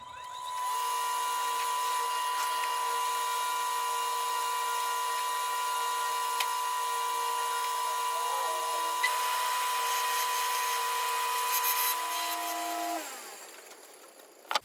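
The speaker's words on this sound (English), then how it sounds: "I'm gonna take this to the grinder, grind the excess off." A belt grinder fitted with a rough 36 grit belt grinds excess steel off a knife blade, a loud steady whine holding for about twelve seconds before spinning down, with no voices.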